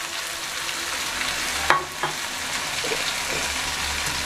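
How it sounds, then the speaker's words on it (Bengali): Fried bitter gourd stirs with spices and ginger paste in a hot pan for shukto, giving a steady close sizzle and crackle with a couple of soft spoon scrapes and no talk. "দিয়ে আমি ভালো করে আবার কষিয়ে নিচ্ছি। ভাজা করলা দিয়ে দিলাম।"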